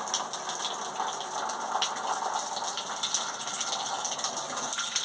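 Continuous rushing water through a small 12 V water turbine, a dense steady gush with a faint mechanical whir underneath, holding level throughout with no talking.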